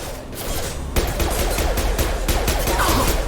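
Heavy, continuous gunfire from security mechs in Mass Effect 2, a loud dense fusillade of rapid overlapping shots and impacts running throughout.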